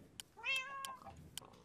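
A cat in the Minecraft video game gives one clear, drawn-out meow near the listener, with a few short clicks around it.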